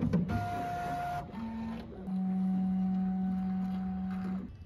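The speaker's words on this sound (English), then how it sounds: "it takes you through like this 15-minute ordeal of just kind of calibrating the machine" A Bambu X1C 3D printer running its calibration routine, giving off steady electronic stepper-motor tones that hold and shift pitch in sustained segments, faint and alone.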